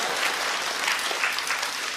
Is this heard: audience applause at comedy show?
yes